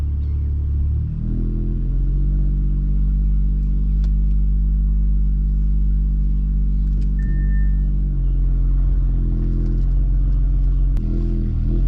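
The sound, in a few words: modified Audi RS5 with full exhaust driving in sport mode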